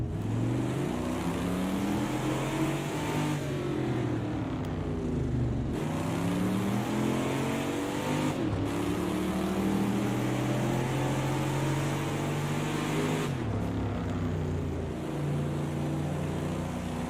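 A car engine droning and revving in a video game, a steady loud motor hum with rising and falling pitch sweeps and a few abrupt breaks, heard alone without talk.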